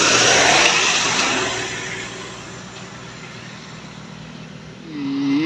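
A bus engine revs in a loud surge of roaring road noise that fades and then swells again at the end, with traffic passing close by.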